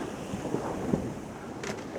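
Strong following wind roars steadily across a Contessa 26 sailboat sailing solo over the Irish Sea, with wave wash and hull noise mixed in as a continuous, moderately loud rush and a few brief knocks.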